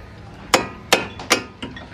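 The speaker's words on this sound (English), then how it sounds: "But this last piece right here needs to be like hammered in." Four sharp metallic hammer strikes drive a small black piece into a coil, landing at an even, deliberate pace, each a bright ringing clink with a short decay, the last one softer, close up with no talk.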